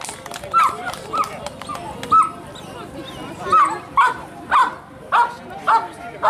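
Several dogs bark repeatedly during a dog protection performance in Bulgaria, sharp rhythmic barks and yips ringing out over a noisy crowd, with someone speaking over a loudspeaker.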